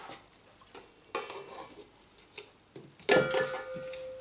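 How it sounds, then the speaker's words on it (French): Puff pastry dough of salt, butter cubes and water being mixed in a bowl, with sparse scrapes and taps followed by a louder clatter near the end. "Donc on mélange le tout, il suffit juste que la pâte commence à se former"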